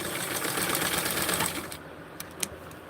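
A sewing machine stitches across elastic on a pair of panties, running in a steady, close whir for about a second and a half before stopping, followed by a few faint clicks.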